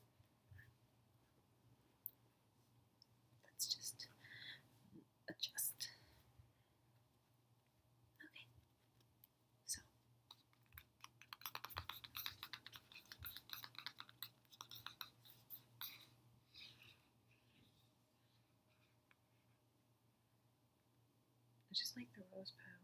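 Tarot cards are shuffled slowly and softly up close, giving quiet riffling, scraping bursts and occasional taps spread across the take, with soft whispered speech in places.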